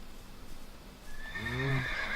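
A horse whinnies in Minecraft, a rising, wavering neigh that swells loud and close in the second half and rings out clearly over a faint background hiss, with no talking.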